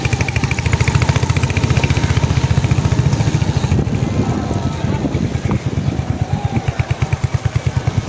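A motorcycle running on the road near a temple, with a steady, loud, close engine drone and rhythmic pulsing throughout, and wind noise.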